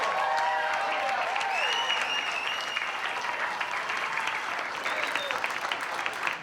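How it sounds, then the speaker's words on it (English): A comedy club audience applauds to welcome a comic to the stage, steady crowd clapping throughout with a few whoops and cheers riding over it. "I want to give him a big round of applause and welcome him"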